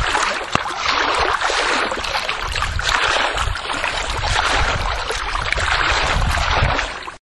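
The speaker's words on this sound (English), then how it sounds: "It definitely is water." Water rushing steadily in a backyard, a dense, continuous hiss and splash that stays loud and close throughout before stopping abruptly at the very end.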